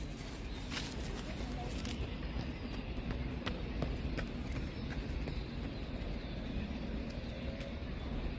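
Many birds chirp outdoors in a steady, dense chorus of small calls and brief high notes, with constant low background noise underneath and no talking.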